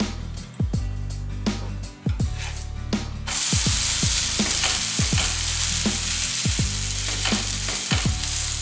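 Small onion uthappam sizzles steadily on a griddle with ghee, the frying growing brighter and louder partway through, while repeated scraping strokes of a spatula sound close by.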